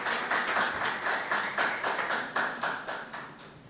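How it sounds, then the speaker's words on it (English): Audience applause at a British Parliament style debate during an anniversary event: a steady run of fairly even, rhythmic claps at moderate loudness, with no voices over it. "Let's give a round of applause for Mr."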